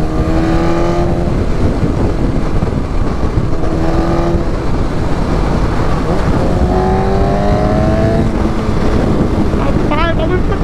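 A 2021 BMW S1000RR sport motorcycle converted to a drag bike revs up and down repeatedly under steady wind and road noise, with rising and falling tones close to the microphone.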